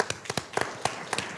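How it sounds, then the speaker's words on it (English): Scattered, sparse hand claps from a small audience at a school board of education meeting, a handful of separate sharp slaps spread irregularly over a quiet room rather than a full ovation. "You can clap for that."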